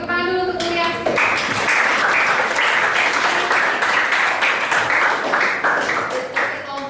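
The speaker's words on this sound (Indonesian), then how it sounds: "tepuk tangan dulu untuk Mulia" Classroom applause for a student after a group discussion on arithmetic sequences and series: a sustained burst of many hands clapping close by, starting after a brief voice and lasting several seconds before trailing off.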